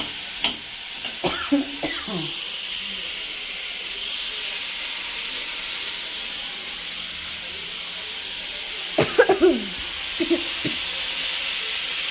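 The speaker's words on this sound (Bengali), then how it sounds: "কাশি হচ্ছে" Several sharp coughs break out in two clusters, near the start and again after a long gap, brought on by fumes from frying cumin and coriander spices in home cooking. A steady sizzling hiss from the pan continues throughout.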